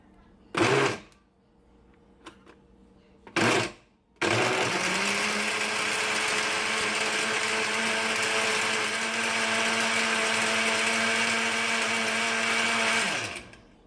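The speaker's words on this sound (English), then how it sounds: "So I'm going to blend that on high speed." A countertop blender runs on high speed blending a cherry summer drink. Two short pulses come first, then a long, loud, steady whirring drone of about ten seconds before it cuts off, with no talk.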